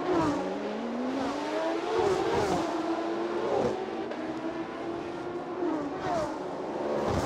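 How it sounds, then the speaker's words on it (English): Racing cars at the Bangsaen Street Circuit in Thailand during a Thailand Super Series round, engines revving loudly and continuously as cars accelerate and pass, with rising and falling engine pitch throughout. "Fifth up is Kantasak, car 34 in 5th place, right behind Hanks J. Kicks."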